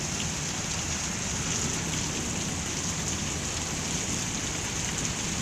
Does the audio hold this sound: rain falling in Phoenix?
yes